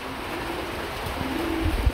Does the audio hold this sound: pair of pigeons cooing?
yes